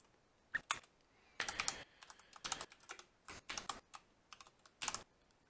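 Keys clatter on a computer keyboard in uneven bursts of quick, close taps with short pauses between them, set against a quiet room with no voices.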